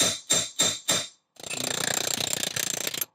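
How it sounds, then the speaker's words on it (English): Three sharp metallic hammer blows on a drift strike in quick succession against suspension tabs on a 1967 Jaguar E-Type independent rear suspension, then a brief silence before a rapid rattling burst of mechanical clatter. "So this time, because the UJs aren't actually in there, I can drift out tabs."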